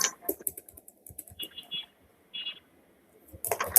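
Typing on a computer keyboard while entering a description in Xero accounting software, heard as quick, close, uneven clicks in short bursts with gaps, joined by brief speech.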